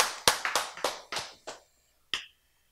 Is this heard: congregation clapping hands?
yes